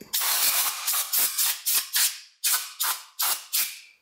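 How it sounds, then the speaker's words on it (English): Brakleen brake cleaner sprayed onto the cylinder of a Kawasaki Brute Force four-stroke engine being rebuilt hisses out in about ten close, loud bursts, each one short, sharp and breathy with brief gaps between. "We're gonna spray the cylinder down with just some Brakleen."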